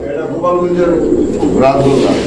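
Fancy pigeons, a pair with a red male, coo softly close by, low throaty warbling calls repeating in short bursts, heard at a pigeon sale.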